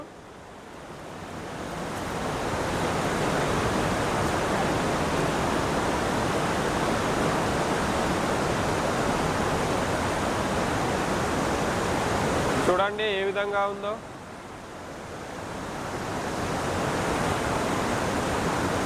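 Loud, steady roar of deep river water rushing through a cave, filling the space with continuous broadband rush; a person speaks briefly over it near the middle.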